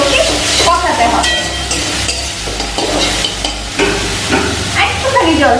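Fish and brinjal curry ingredients stir-fried in a pan for a Bengali fish curry with boal fish, a loud sizzle broken by repeated scraping strokes of a spatula against the pan.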